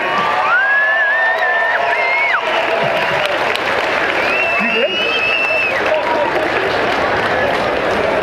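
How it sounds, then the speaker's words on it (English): A Truckfest monster truck show crowd claps and cheers for two drivers, a dense, loud sustained wash of applause with scattered whoops and children's shouts from an outdoor arena audience. "let Tony and Alan give them a big applaud, you guys. Let them hear you."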